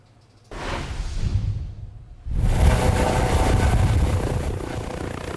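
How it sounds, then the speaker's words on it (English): A Lifeline medical helicopter's rotor roar swells up loudly nearby at a children's hospital, dips briefly, then returns as a sustained, dense thump and whine as it sets down. "The Lifeline helicopter landed at Penn State Health Golisano Children's Hospital today"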